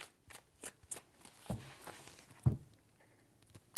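Tarot cards are shuffled during a reading: a quiet series of soft, papery riffles and taps at irregular intervals, with a couple of sharper knocks, close but faint.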